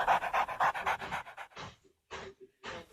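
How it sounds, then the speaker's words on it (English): A big, heavy dog pants in quick, loud bursts close by, its breathing rhythmic and wet as it jumps on a woman and licks her, with short pauses between bouts. "we heard a lady with her dog, a big dog, who sounds like he jumped on the other lady and he was licking the other lady"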